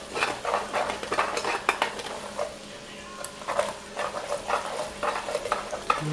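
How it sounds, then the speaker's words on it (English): A utensil stirring and scraping flour gravy in a pot for beef short ribs, with quick irregular scrapes and taps repeating close by at moderate volume, and no talking. "And just keep stirring."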